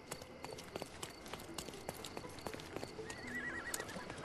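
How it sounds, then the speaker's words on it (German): A horse in the Sherlock Holmes Chapter One video game clip-clops along with a steady run of hoofbeats, and a neigh rises near the end, moderately close over a faint ambient bed. "Pferd geht mal aus dem Weg,"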